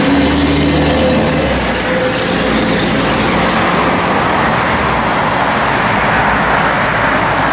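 A 1970 Chevrolet Chevelle SS with a built 350 engine, Turbo-Hydramatic transmission with a 3000 stall converter and an aluminum radiator, running with a steady, loud, broadband rumble that holds without a break.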